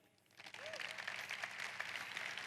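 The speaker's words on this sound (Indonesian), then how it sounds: "Sekali lagi kita beri tepuk tangan di depan ini." Audience applause breaks out at a leadership training event, a dense, steady wash of clapping that rises quickly after a brief quiet moment and holds for the rest of the clip.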